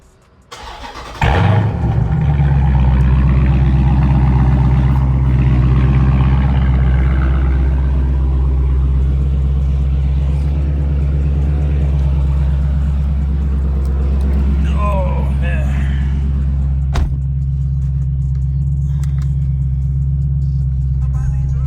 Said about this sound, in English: let's get a semi-cold start so we can hear the sound difference